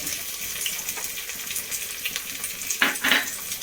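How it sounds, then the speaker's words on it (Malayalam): Shallots and curry leaves frying in oil in a clay pot on a stove give a steady, crackling sizzle throughout, with a few brighter pops near the end and no talking. "അപ്പോൾ നമ്മൾ ഇപ്പുറത്തെ അടുപ്പത്ത് ചട്ടി വെച്ചിട്ടുണ്ട് ഇതേ ചെറിയ ഉള്ളിയും കറിവേപ്പിലും ഇട്ട് കൊടുക്കുന്നുണ്ട്"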